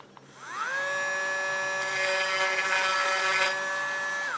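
A handheld cutting tool trims a tight bearing hole in a 3D-printed transmission part, making a steady, sustained whirring whine that rises in pitch and holds for several seconds, close and alone.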